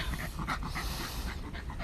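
A dog pants steadily and rapidly, close by, with a continuous breathy rhythm and no talking.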